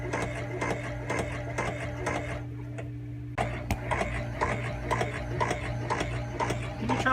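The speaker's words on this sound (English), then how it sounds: "Turn the pump on." A VacuFlush vacuum pump on a boat toilet runs steadily with a low mechanical hum and a rapid ticking, clattering rhythm, briefly dipping before resuming, close and continuous with no talking.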